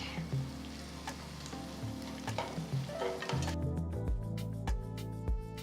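Curry leaves dropped into hot oil with softened onions and green chillies for an egg dish crackle and sizzle quietly beneath background music, with scattered sharp pops.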